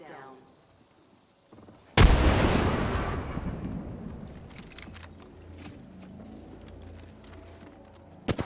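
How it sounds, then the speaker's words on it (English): A frag grenade explodes in the Apex Legends video game, with one sudden loud blast that decays into a long rumbling tail, followed by a few soft gameplay noises. "Throwing frag."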